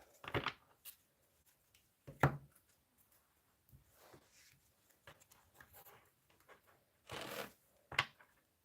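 Quick riffling bursts of playing cards being shuffled, several short ruffles spaced apart with quiet handling in between.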